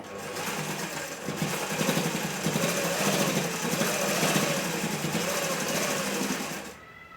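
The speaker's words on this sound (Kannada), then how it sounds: "ನಾನು ಸ್ವಲ್ಪ ಸಣ್ಣ ಸ್ಟಿಚ್ ಮಾಡ್ತಾಯಿದ್ದೀನಿ" A sewing machine runs steadily, stitching a kunchigi (baby hood) with small stitches; a loud, continuous whirring drone holds for about seven seconds before cutting off near the end, with no talking.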